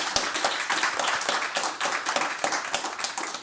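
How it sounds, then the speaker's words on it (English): An audience applauds designers seated at a table, a dense, steady patter of many hands clapping at once throughout, moderately loud and unbroken. "Can I have another round of applause for them?"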